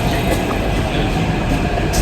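A Hyderabad metro train arriving at a busy Sunday platform, with a loud, continuous rumbling roar of wheels and carriages that fills the whole moment.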